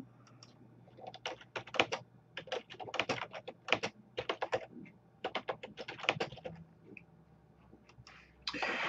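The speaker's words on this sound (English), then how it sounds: "At this point, you can then type in the title that you want to give the" Rapid bursts of keystrokes on a computer keyboard as a title is entered, irregular clusters of clicks close and fairly crisp, with short pauses between words and no talking.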